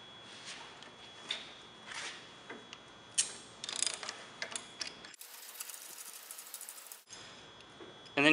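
A rivnut installation tool is backed off with a run of small ratcheting clicks and mechanical ticks, close and fairly quiet, broken by a brief harsh burst of broadband noise partway through.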